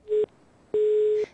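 A telephone busy signal sounds after the receiver is hung up: a loud, clean single-pitch tone beeping in a short pulse and then a longer one, separated by silence.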